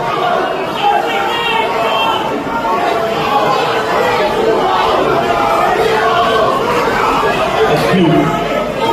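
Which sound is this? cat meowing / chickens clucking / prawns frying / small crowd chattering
small crowd chattering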